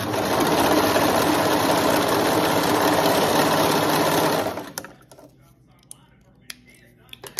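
A sewing machine stitches over a seam while making bummies, running in a loud, steady, close whir for about four and a half seconds before stopping, followed by faint handling clicks.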